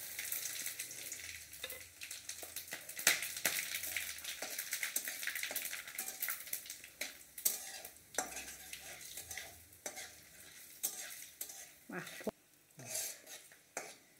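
Whole spices for tempering, bay leaves, dried red chillies, black and green cardamom, cloves, peppercorns, cinnamon and cumin seeds, sizzle and crackle in hot oil for a Bengali-style spicy stingray masala, with steady close frying hiss, scattered pops and occasional stirring clinks.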